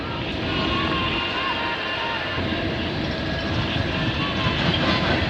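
A CN freight train hauling vinyl chloride tank cars and an empty auto rack rolls past in Burlington, Ontario, giving a loud, steady rumble of wheels and cars throughout with faint clicking over rail joints.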